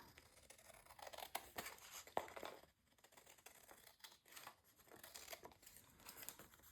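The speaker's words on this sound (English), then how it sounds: "I'm going to take my scissors and cut off this excess here" Scissors snip through paper in a series of close, crisp cuts with rustling and crinkling between them, quiet and with no talking.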